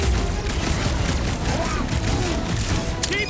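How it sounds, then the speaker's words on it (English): Heavy gunfire from a big gun in a shooter video game, a dense, continuous roar of shots filling the whole stretch with no clear gaps, loud and close, with some chatter mixed underneath. "Time for the big gun!"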